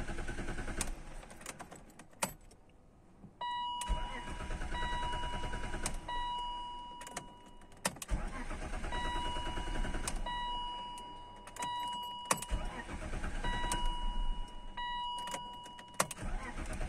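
A BMW E39 with the M52TU engine idles steadily at close range after starting, a continuous engine rumble broken by sharp clicks and metallic taps, without anyone speaking.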